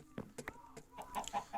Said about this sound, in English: So we've got 3 grown chickens roaming the house.